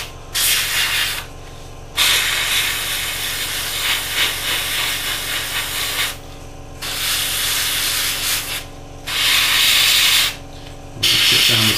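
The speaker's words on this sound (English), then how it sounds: "we're just going to flick on the old compressor, and we're just going to spray this back one" An air compressor runs to drive an airbrush spraying white paint onto the back of a 1/48 F-14D Tomcat model, a steady hum under loud hissing spray bursts that stop and restart several times.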